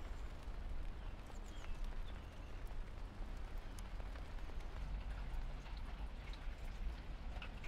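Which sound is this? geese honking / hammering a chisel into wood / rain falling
rain falling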